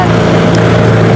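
A boat engine drones loud and steady at close range on a sea crossing off northern Sri Lanka, from Palaly to Point Pedro, with wind buffeting the microphone throughout.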